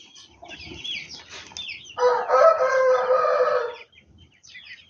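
Poultry raised from hatched eggs, including Black Japanese chicks, call up close: scattered clucks and chirps lead into a loud, drawn-out rooster-like crow, then tapering clucks.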